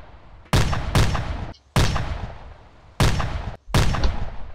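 Artillery guns firing in the military video game Arma 2, four heavy booming shots with long rumbling decays, spaced roughly a second apart, loud and close, with no talking.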